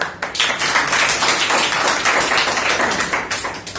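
Steady, loud applause from an audience at a Jabalpur smart city award announcement, dense clapping that holds for several seconds without a break, close and with no talking over it.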